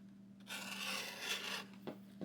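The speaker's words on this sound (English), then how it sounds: "and just cut the straps." Wooden strap cutter drawn along leather to slice 3/4-inch straps, producing a rough, raspy scraping drag lasting about a second, followed by a couple of short scuffs, close and fairly quiet.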